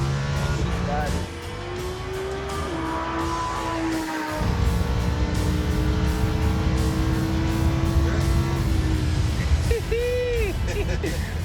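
Race car engine droning and then surging as it accelerates on a track, the pitch dropping briefly before climbing again at close range, with faint background noise and no speech.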